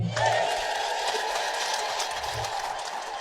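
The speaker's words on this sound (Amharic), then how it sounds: "አየችው ይህንን እልልታ?" A church congregation ululating together in praise of the Virgin Mary, a sustained, shrill, warbling crowd trill that holds steady and fairly loud throughout, with no pause.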